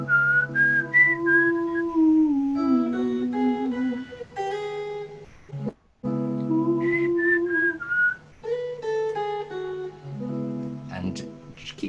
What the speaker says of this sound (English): someone can either hum, whistle, or sing